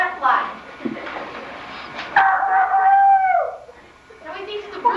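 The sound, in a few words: man imitating a rooster crowing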